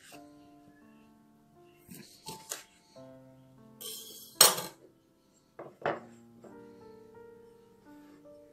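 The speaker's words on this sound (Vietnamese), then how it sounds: "bốn cái trái này thì mình sẽ cắt ra và mình sẽ vắt lấy nước" Kumquats being cut and squeezed for juice for iced kumquat tea, giving a few sharp knife and utensil clatters and squishy bursts near the middle, with soft background tones between them.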